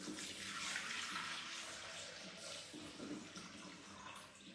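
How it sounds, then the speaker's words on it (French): 750 g of water goes into a Thermomix bowl for a salmon and spinach terrine, making a soft steady splashing pour with bright gurgling that is fairly faint and quickly fades. "Donc là on va ajouter 750 g d'eau"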